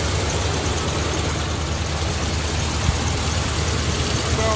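An old Dodge truck with a 360 engine idles after a cold start, a steady, even low rumble with a noisy hiss, running alone and unbroken.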